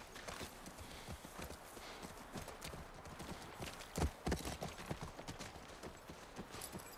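Horse hooves clip-clop at a walking pace in the video game The Last of Us near a ranch, a quiet, steady rhythm of hoofbeats with one louder thud midway, heard alone.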